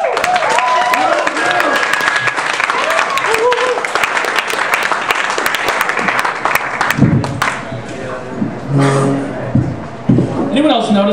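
Comedy club crowd at the House of Comedy applauding as the next act takes the stage, a dense loud roar of clapping and cheering that thins out midway as a voice begins speaking over the fading applause.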